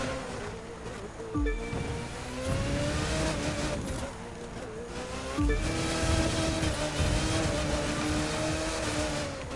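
A racing car's engine drones steadily on the final lap of a city championship race in The Crew 2, with a few surges of revving and brief dips, loud and continuous with no talking.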